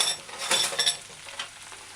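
Chicken and broccoli stir-frying in a pan, a steady close sizzle broken by a few scraping stirs and light clinks of a utensil against the metal.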